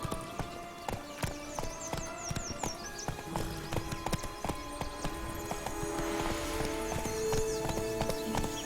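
Hooves of the horse Roach clip-clop in a steady galloping rhythm through The Witcher 3: Blood & Wine, with occasional neighs and ambient game sounds, no talk.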